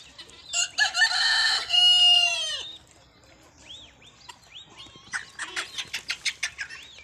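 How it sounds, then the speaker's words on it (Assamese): At a poultry farm in Assam, a rooster crows loudly up close, then chickens pecking at cauliflower cluck in a quick, rhythmic series of short calls. "ফুলকবি মই দিছোঁ মুৰ্গীক, কেনেদৰে খাই আছে, কিমান ধুনীয়াকৈ"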